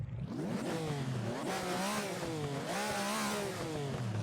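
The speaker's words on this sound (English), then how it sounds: "Right, so here we are in the Ferrari. First off, let's see how the car sounds." A Ferrari engine revs hard on the Goodwood hillclimb, its pitch sweeping up and down in repeated surges over roughly four seconds, loud and close with a steady, rasping roar and no talk.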